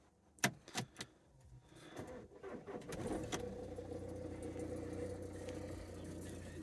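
A car with 212,000 miles starts from cold: a few clicks and the whir of the starter, then the engine catches and settles into a steady, faint idle.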